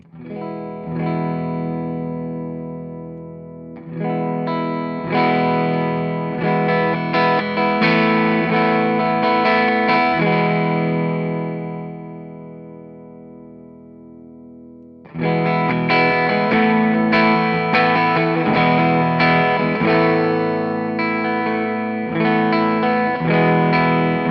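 Electric guitar through an Orange AD30 tube amp, humbucker rhythm pickup, playing clean, sustained chords and arpeggios with a warm amp tone, in two passages separated by a brief quieter stretch.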